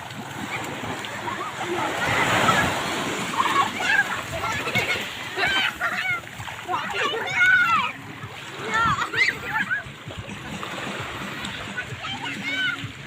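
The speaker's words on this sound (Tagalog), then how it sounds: "Yung alon ng tubig." Sea waves splashing at the beach in Vinsons, Camarines Norte, where people are swimming, with sloshing water under lively voices and children talking throughout.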